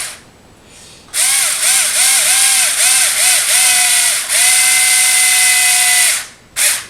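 A cordless screwdriver drives screws into a differential, loud and close, its whine pulsing in several short bursts before a longer sustained run, then a brief final spin.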